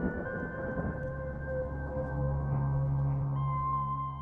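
A thunderstorm sound effect of steady rain on surfaces under low, rolling thunder, heard close and continuous with no talk over it.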